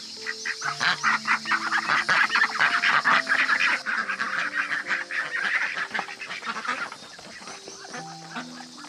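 A flock of wild ducks on a farm quack and honk continuously in a dense, overlapping chorus, close and loud, thinning slightly toward the end.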